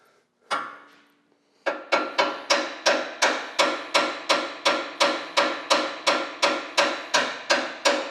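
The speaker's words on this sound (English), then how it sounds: "So we'll just give a couple taps." Light hammer taps seat a ball joint into the aluminum knuckle of a Subaru WRX STi: one single knock, a short pause, then a steady, evenly spaced run of about fifteen crisp, close taps.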